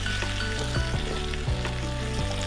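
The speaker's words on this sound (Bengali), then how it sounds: "প্রায় পনেরো থেকে কুড়ি মিনিট এটাকে ভাজতে থাকবো যতক্ষণ না সিদ্ধ হয়" Close, steady sizzle of potatoes frying in a pan, broken by a few soft scraping knocks of a utensil moving them.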